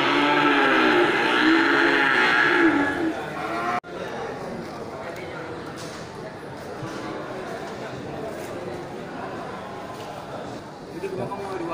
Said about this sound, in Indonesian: ini juga sapi Aceh ya, punya bapak kita ini kan